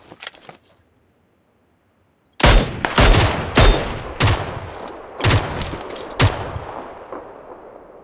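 Gunfire in the battle game PUBG Lite cracks out in a rapid string of about eight loud, sharp shots after a brief silence, each ringing off with a short tail, with no talk over them.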